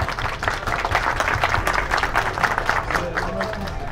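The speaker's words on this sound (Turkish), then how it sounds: "Bir alkışlayalım Altan abimiz." A crowd at a motorcycle gathering applauds Altan, a dense burst of many hands clapping close and loud, with low rumbling chatter underneath.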